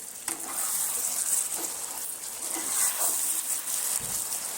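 Mutton korma sizzles in a pan while a spoon stirs it, making a continuous frying hiss with scraping strokes and a small knock near the end. No one speaks.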